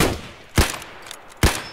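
Two sharp gunshots in the video game Escape from Tarkov, spaced about a second apart, each a loud, brief crack with a short tail, over a low background.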